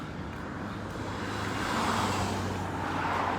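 Cars in busy street traffic in Reykjavik, Iceland, make a steady broadband roar that grows slightly louder as vehicles pass nearby, with no one talking.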